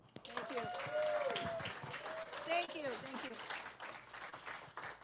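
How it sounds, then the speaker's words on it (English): An audience at a morning talk gathering gives a round of applause, a scattered patter of clapping from a modest crowd, while a speaker talks briefly over it. "let's give a round of applause"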